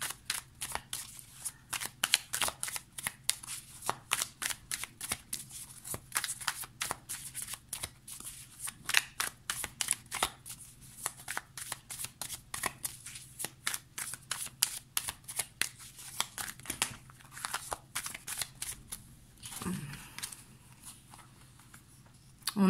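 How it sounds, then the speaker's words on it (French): Tarot cards are shuffled in a long run of quick, crisp riffling taps and flutters, close and fairly quiet, with brief pauses but no talking. "Après, je vais prendre quelques cartes de Well of Ear."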